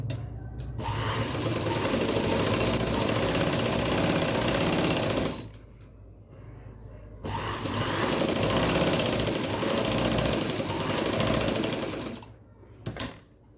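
A sewing machine stitching a zip onto a kameez runs in two long, loud, steady bursts of rapid needle chatter, separated by a short pause, and ends with a few brief stops and starts.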